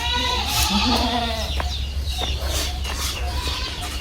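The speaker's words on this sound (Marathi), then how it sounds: "आणि हे इथे बकऱ्या राहतात बकरींचा हे गोट फार्म" Goats bleat from their shed on a farm, a few calls near at the start, then mostly rustling and scattered knocks from the animals around the enclosure.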